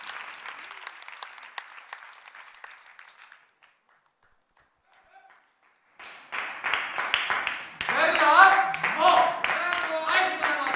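Audience applauding at a gala performance, steady clapping that fades to near silence, then returns as loud, dense applause with faint cheering and voices mixed in.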